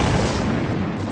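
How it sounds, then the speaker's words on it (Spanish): A dense, rumbling blast from a torpedo striking a ship at sea in wartime fills the moment, a loud continuous low roar with no voices. "Lo único que veíamos eran destellos y ruidos de torpedos que alcanzaban barcos."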